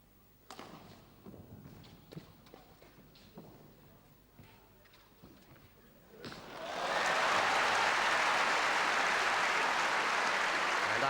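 At the 1974 All England men's singles badminton final between Rudy Hartono and Punch Gunalan, quiet court sounds and shuffling give way midway to loud, sustained crowd applause that holds to the end.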